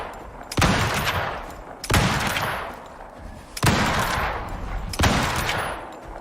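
Gunfire in the survival game ICARUS, shotgun and rifle shots, lands as four loud, sharp blasts spaced about a second and a half apart, each followed by a decaying rumble.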